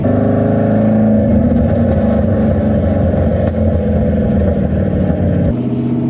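An LS V8 swapped into a Nissan 350z revs loud and close, a deep, steady engine roar holding strong for several seconds before the pitch drops slightly near the end.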